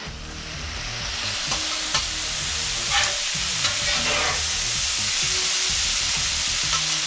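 Meat and sausage sizzle loudly in a gumbo pot, a steady dense frying hiss broken by scraping strokes and light clinks as a spoon stirs, close and continuous with no talking.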